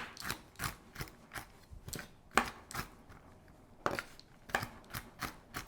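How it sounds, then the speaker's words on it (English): Knife chopping about half a cup of pecans on a cutting board, a quick series of crisp, fairly close chops in uneven bursts with short pauses between them, no talking. "I'm just going to chop them up and sprinkle them on top"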